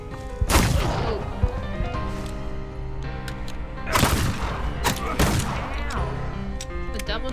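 Twin bursts of gunfire from the video game The Thaumaturge, two sharp clusters of loud shots around one and four seconds with crashing impacts over a steady music bed, then smaller hits trailing off.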